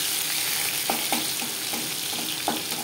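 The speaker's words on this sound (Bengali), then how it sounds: "রসুন হালকা করে ভেজে নেব।" Crushed garlic frying with dried red chillies in hot oil gives a continuous near sizzle, with a few soft spoon scrapes at irregular intervals and no speech.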